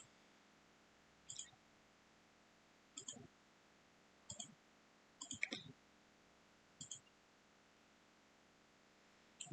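Computer mouse clicks while working on mirror components in SolidWorks CAD software: six short, quiet click pairs spaced about every one to one and a half seconds against a faint room hush, with no talk.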